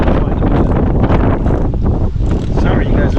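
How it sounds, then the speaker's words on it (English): Strong gusting wind buffets the microphone with a loud, continuous roar outdoors beside a lawn mower being worked on, briefly dipping before surging again. "it's really windy today."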